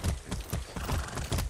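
Horse hooves clip-clop in a steady galloping rhythm while riding a horse in Far Cry 6, loud and close with no talk over them.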